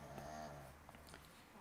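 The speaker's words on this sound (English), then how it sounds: "Snoring dog in my room." A dog snores in a quiet room, one soft, low rumbling breath followed by faint snuffling, close by and barely above the background hush.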